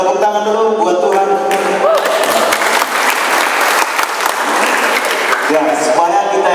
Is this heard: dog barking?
no